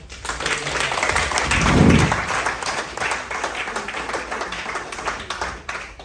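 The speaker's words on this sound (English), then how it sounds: "Big round of applause for this." Steady applause from a sizable crowd at a football club presentation day, dense clapping that swells briefly and then holds at an even level for several seconds.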